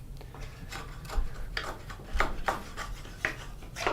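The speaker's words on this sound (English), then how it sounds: "I should come in with this chisel now that I have it all cleaned out" A steel chisel pares wood in a bridle joint for a window frame, giving a series of short scraping, rasping strokes at an uneven rhythm, close and fairly quiet over a low background hum.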